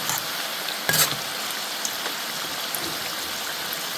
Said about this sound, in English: Approximately 3 minutes just deep frying for them to be able to be ready.